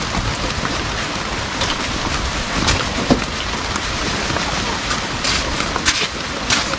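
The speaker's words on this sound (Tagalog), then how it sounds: "Basa tayo ng ulan." Heavy rain pours down in a steady, dense hiss with scattered louder drops and patters close by, holding an even intensity throughout with no other sounds standing out.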